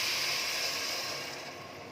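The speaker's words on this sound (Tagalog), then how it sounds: "maglalagay tayo guys na ng isang pitcher na tubig" A steady hissing rush of water poured from a one-litre pitcher into a pot, close and fairly loud, easing off toward the end.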